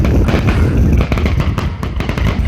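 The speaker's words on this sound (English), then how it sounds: "Fireworks are starting to cool down." Fireworks at an outdoor show in Bloomingdale burst continuously in a loud, dense barrage of overlapping booms and crackles, with sharper pops standing out toward the end.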